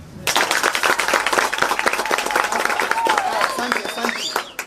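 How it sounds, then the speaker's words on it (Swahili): A crowd at a school gathering in Kiharu claps for politician Dede Nyoro, a dense run of overlapping hand claps that swells and then tapers, with voices mixed in. "Sasa mheshimiwa Dede Nyoro amesimama hapa. Nipigeni makofi."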